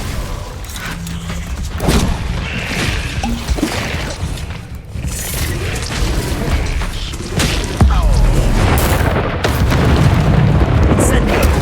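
Glacius ice spell cast during combat in Hogwarts Legacy, heard as a dense, continuous wash of magical impacts, booming bursts and crackling effects, loud and close, with game speech mixed in throughout.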